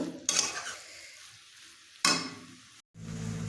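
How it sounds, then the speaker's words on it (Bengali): Cabbage curry in a pan being stirred after ghee and garam masala are added, two sharp scraping strokes of a utensil against the pan over a faint sizzle, with a brief silence before the frying resumes. "এবার ভালো করে এটা মিশিয়ে নেব।"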